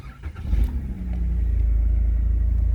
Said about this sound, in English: Now, let's actually start the car.